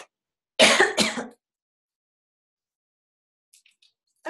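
A person clears their throat and coughs twice in a quick burst, close and loud, then silence with faint small noises afterward.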